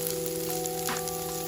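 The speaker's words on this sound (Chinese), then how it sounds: "接着洋葱就这样直接下来。 我们这边要煎到有点褐色的状态之后" Sliced onions fry in a hot pan until browning, giving a quiet, steady sizzle with faint crackles and no voices.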